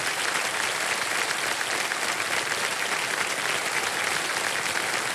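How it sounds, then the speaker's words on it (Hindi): A studio audience on a televised quiz show breaks into sustained, thick applause for two sisters who answered ten questions correctly, an even roar of clapping that holds for several seconds. "तालियां बजती रहें इनके लिए।"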